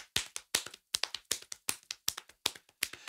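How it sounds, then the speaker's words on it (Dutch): Hands slap on thighs in a rhythm exercise, giving sharp, close, distinct slaps in quick uneven groups and repeating steadily throughout. "En dan sla je met de ene hand op het ene been."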